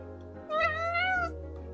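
A cat meows once in a farming video game, a single drawn-out, rising-and-falling call heard alone over a steady low background hum.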